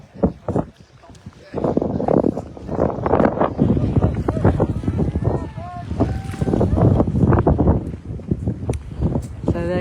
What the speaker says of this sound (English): hopefully you can hear me above the wind